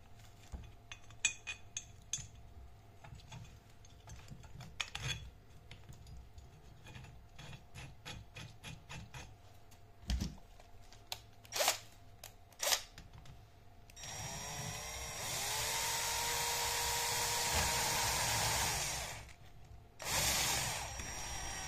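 A bolt and nut being tightened with a washer on a car roof rack bracket, close metallic clinks and ratcheting clicks, then a sustained whirring tool sound near the end.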